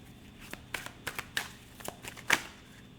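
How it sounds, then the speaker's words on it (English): Tarot cards riffled and tapped in a string of short, crisp shuffling bursts, fairly close, with no talking. "last shuffle for my Leos in love this weekend"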